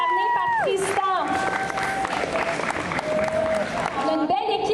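An audience at the Fantasticon comic convention in Montreal claps and cheers for a six-year-old boy dressed as The Flash, with the applause running throughout beneath a speaking voice.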